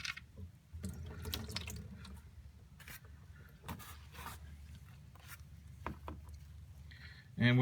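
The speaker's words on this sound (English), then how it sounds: "we'll just sit here and let this drain for about 4 or 5 minutes until it gets down to a slow trickle" Engine oil pouring from the drain plug of a 2011 Nissan Altima into a pan, a steady liquid splashing and trickling with scattered drips and small clanks, close by.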